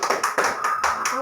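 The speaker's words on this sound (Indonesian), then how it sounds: "Tepuk tangan buat Habib." Schoolchildren in an elementary classroom clap their hands together in a short, quick burst of rhythmic group applause, close and lively, with voices mixed in.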